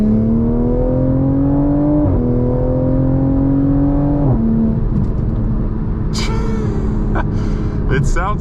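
A Toyota Supra with the B58 engine accelerates hard in sport mode, its exhaust note climbing through two upshifts with rising harmonics, loud and close. A brief burst of crackle and wind noise comes near the end.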